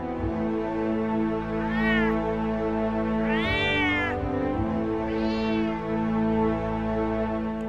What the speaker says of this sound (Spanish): Alzaba de vez en cuando los ojos y maullaba de manera persuasiva